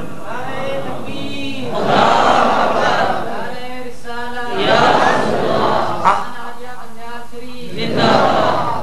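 A crowd chants slogans in three loud, rhythmic swells spaced a few seconds apart, with quieter stretches between them where a single voice seems to lead.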